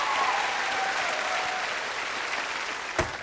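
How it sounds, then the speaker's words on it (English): Studio audience applause on a school dance-competition show, a dense steady wash of clapping that fills the stretch at fairly close range, with a sharp thump near the end. "Round of applause for Hacker"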